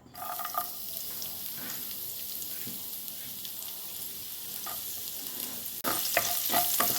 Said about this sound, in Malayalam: ഫ്രൈ ചെയ്തതിൽ തന്നെ നമുക്ക് കുറച്ച് സൺഫ്ലവർ ഓയിൽ കൂടി ഒഴിച്ചിട്ട് നമ്മൾ നേരത്തെ കളഞ്ഞു വെച്ച ഗാർലിക് ഇതിലോട്ട് ഇടാം